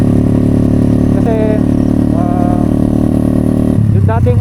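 A motorcycle engine fitted with a big, freshly tuned carburetor runs loud and steady close by, with rising rev flourishes and a sharper burst of throttle near the end, while a person talks over it.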